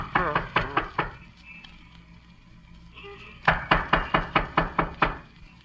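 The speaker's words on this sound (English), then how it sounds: "knock on the door anyhow" In a 1940s radio drama, knuckles rap on a door in two sharp, evenly paced bursts: about five knocks, a short pause, then a louder run of around eight.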